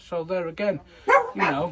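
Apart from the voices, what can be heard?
dogs barking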